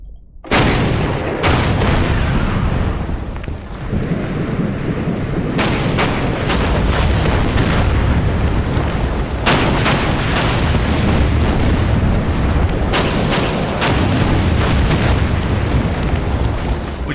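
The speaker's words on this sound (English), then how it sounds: "Left the AA gun positioned where I can devastate it with naval fire." Continuous, thunderous explosions from a naval gunfire bombardment in the wargame Order of Battle pound on in rolling, overlapping booms, loud and dense for the whole stretch.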